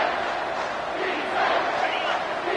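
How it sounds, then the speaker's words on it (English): Crowd noise from a college football video game, Memphis against Indiana, forms a steady, dense roar throughout without a break, loud and continuous, as the home stands come alive during a red-zone defensive stand. "And the crowd coming to life here"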